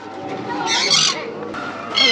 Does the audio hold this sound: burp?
no